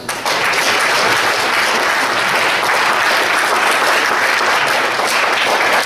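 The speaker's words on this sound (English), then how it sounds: "Another round of applause for our panelists." Conference audience applauds the panelists after a panel discussion, a loud, dense, continuous roar of clapping from start to finish with no talk over it.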